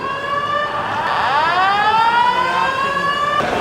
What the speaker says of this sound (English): No one's even paying one bit of mind to this fire alarm going off.